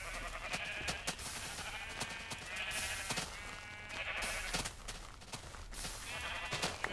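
Sheep in the Minecraft video game bleat repeatedly, a series of short, fairly close calls over a steady background of game sounds, with no talking.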